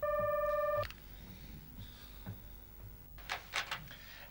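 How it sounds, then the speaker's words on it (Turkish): Old landline telephone bell ringing in a Turkish TV comedy household, one loud electronic ring burst at the start, then quieter room sounds and footsteps. "Hüsnücüğüm, telefona bak, çalıyor"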